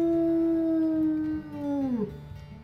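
A wolf howls in the WolfQuest video game, a single long, loud, steady tone that sags and breaks off near the end, followed by a brief quieter trailing call, with no talking.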